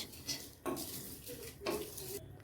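Whole cumin, fennel and five-spice seeds frying in oil in a pan for a hog plum pickle, an even sizzle broken by a couple of scraping stirs of a spoon against the pan, close up and without speech.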